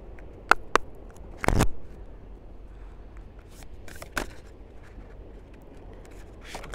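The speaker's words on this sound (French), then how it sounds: "On va prendre, allez, une carte conseil avec l'oracle des fées." A deck of fairy oracle cards is shuffled by hand, with a few sharp riffles and flicks followed by softer rustling and sliding of cards, close and quiet.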